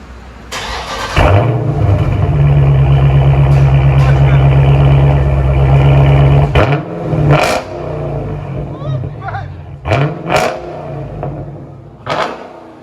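A 2016 Dodge Challenger SRT Shaker's 6.4L V8 with dual Dynomax Bullet exhaust fires up and holds a loud, throaty rumble, then blips the throttle in several sharp revs with a crackling exhaust.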